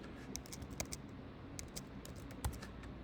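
Keystrokes on a computer keyboard as a St. Petersburg neighborhood name is entered into a property search, a quiet run of light taps in short uneven bursts over faint room noise.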